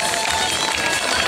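An outdoor audience at a village summer festival in Matuizos claps steadily, a dense, loud wash of applause that stays level for its brief length.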